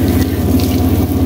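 Hot water gushes steadily from a tap into a tub inside a converted bus during an arctic cold snap, a loud continuous rushing with no pauses and no voices.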